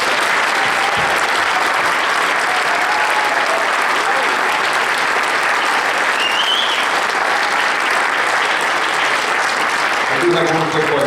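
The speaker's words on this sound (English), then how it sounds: "How about a round of applause?" Audience at a question-and-answer event gives a long, steady round of applause, a loud, even wash of clapping that persists throughout, with a voice emerging near the end.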